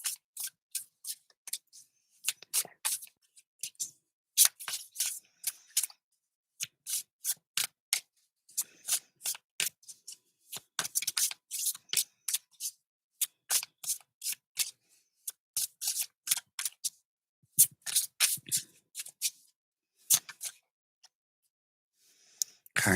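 Tarot cards being shuffled up close, a long run of quick, crisp papery snaps and riffles that come in short bursts with brief pauses between them.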